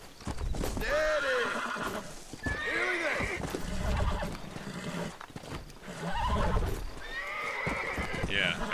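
A horse in the video game Red Dead Redemption neighs and whinnies repeatedly, with clip-clopping hooves running underneath, while people talk over it.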